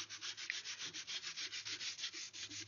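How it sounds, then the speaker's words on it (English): Sandpaper wrapped on a dowel rubs back and forth along a wooden rifle stock near the metal nose cap, a steady rhythmic scratching of about a dozen even strokes, close and moderately loud with no voices. "You want to sand this screw right out onto the nose cap so that you have a good transition from the wood"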